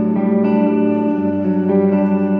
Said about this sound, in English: what I'm playing is basically outlining different chord tones that are happening while the main guitar part is happening